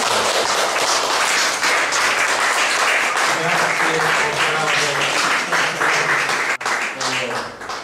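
Audience applause fills a gathering on Ischia, with dense, loud clapping sustained throughout and some voices mixed in underneath.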